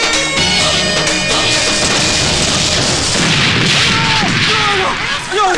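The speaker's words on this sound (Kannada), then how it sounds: "ಅದು ಭೂಕಂಪ ಅಲ್ಲ ರೀ, ಎದುರು ಮನೆಯವರು ಹೊಡಿತಾ ಇರೋ ಪಟಾಕಿ ಶಬ್ದ" Firecrackers burst from a house across the street in a rapid run of loud booms and cracks, with voices talking and calling over the barrage.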